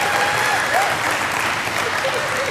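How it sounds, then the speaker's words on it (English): A church congregation at New Covenant House breaks into loud, sustained applause, a thick wash of clapping with faint cheers or voices rising above it throughout. "Come on, let's give the guys a round of applause."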